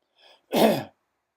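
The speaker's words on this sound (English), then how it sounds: "I got a cough here." A single short, harsh cough close by, preceded by a faint breathy sound, then silence.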